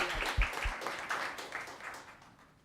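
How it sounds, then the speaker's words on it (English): A town council meeting audience gives Juliet a short round of applause, faint, scattered clapping that thins out and fades over a couple of seconds. "If we could all give her an applause"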